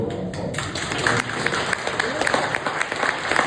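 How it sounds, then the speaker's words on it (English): An audience at a live event honoring veterans claps together, a dense patter of applause throughout, with a voice faintly present beneath it. "Let's give them a round of applause."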